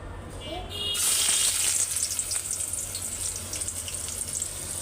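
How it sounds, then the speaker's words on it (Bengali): A vegetable curry drops into hot oil and bursts into a loud, close sizzle after a second of near quiet, then keeps crackling steadily. "তেল গরম হয়ে গেছে তরকারিটা বসাই দিই"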